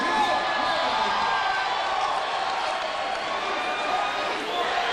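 A cage-fighting arena crowd cheers and applauds in a sustained, fairly even roar, with clapping and scattered whoops mixed in and no clear peaks.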